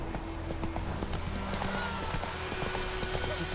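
Roach the horse trots along in The Witcher 3, hooves clip-clopping in a steady, even rhythm close by over a constant bed of game ambience.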